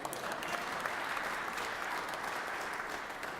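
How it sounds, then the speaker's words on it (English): Audience applause in the Georgia Senate chamber, a steady, dense clapping that continues evenly throughout, moderately distant. "Yeah, you can clap."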